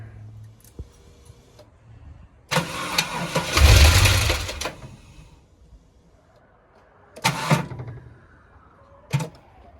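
A GM L67 supercharged engine after repair: a few separate cranking and starting attempts, with a longer, loud burst of engine noise mid-clip followed by shorter bursts, separated by near-silence.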